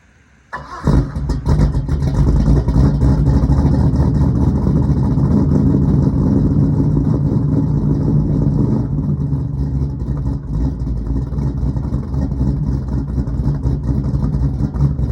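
A 1976 Camaro engine cranks and catches after a brief quiet moment, then settles into a loud, rumbling run with rises in revs, close by and continuous for the rest of the stretch.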